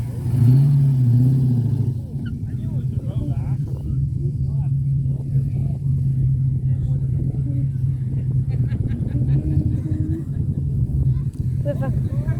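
Classic Rover SD1 engine at a car meet in Middlesbrough, a loud low-pitched rev at the start settling into a steady throbbing idle, with people talking over it.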